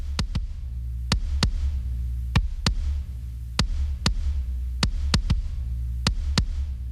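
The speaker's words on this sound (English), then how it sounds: "we'll start to hear the body of the kick coming through" Punchy compressed kick drum hits in an uneven pattern, often in quick pairs, with sharp attacks over a low steady hum.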